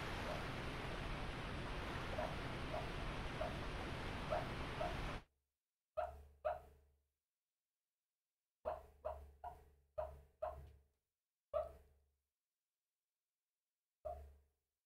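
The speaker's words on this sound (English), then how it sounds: "My dog is dreaming." A sleeping dog dreaming gives short, separated yips and soft whimpers, close and quiet, scattered in bursts after a stretch of steady background noise.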